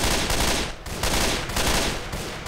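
Continuous automatic gunfire in the zombie shooter Left 4 Dead 2, dense rapid bursts with brief dips, loud and close without talk.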